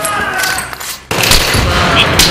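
Rapid M5K submachine gun fire in a close-quarters Battlefield 3 fight at Ziba Tower, loud continuous bursts that break briefly near the middle and resume with dense crackling shots.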